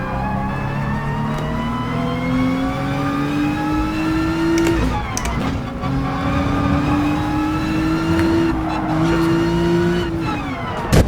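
A race car in the Gran Turismo Sport racing game brakes late into a corner, its engine note dropping and climbing again with loud, steady revving and brief tyre squeals as it shifts through the gears.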